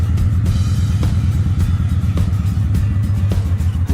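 Steady, loud rumbling of a Honda 750 Ace Deluxe motorcycle engine being ridden down a road, a continuous low throbbing drone with a constant pulse, close and alone.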